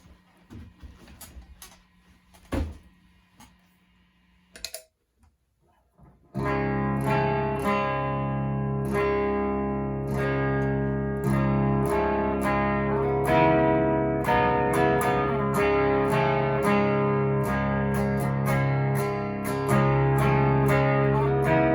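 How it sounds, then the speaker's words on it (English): A clean electric guitar through a Voodoo Custom Pickups Pennywise humbucker rings out with warm chords and plucked notes, steady and close, after a few quiet taps and bits of handling noise. "Let's see what we got here. Let's check out some tones."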